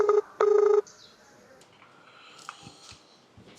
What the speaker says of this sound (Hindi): यो फोन आ रहा है